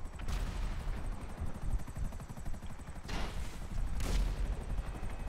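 Gunfire in GTA 5 Online: a few sharp shots and short bursts, moderately loud over a low rumbling game background, with two distinct cracks near the end.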